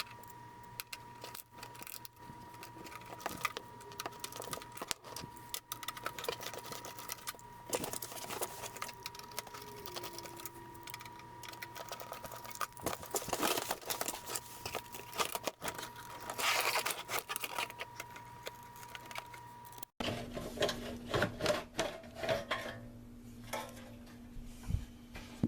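A Sears VCR, unplugged, is taken apart by hand: scattered clicks, scrapes and rattles of plastic and small parts recur throughout, close and fairly quiet, with a sharper change in the handling near the end.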